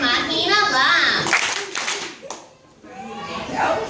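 Schoolchildren at an award ceremony clap twice together in unison, a short burst of sharp claps set between children's voices speaking.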